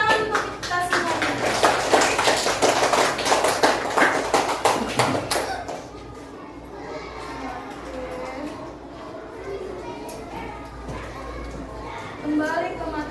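A second-grade primary class claps hands in a dense, loud burst of overlapping claps that lasts about five seconds and then stops, followed by children's chatter and talk in the room.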